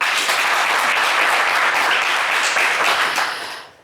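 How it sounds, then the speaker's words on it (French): Studio audience at a game show applauds a contestant, a dense, steady wash of clapping that stays loud throughout before tapering off at the very end. "On peut vous applaudir très fort."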